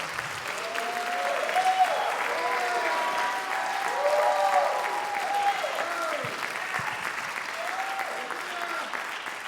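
Long, sustained applause from a large crowd, with cheers and whoops rising over the clapping.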